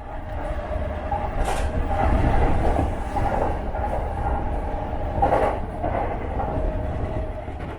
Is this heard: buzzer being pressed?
no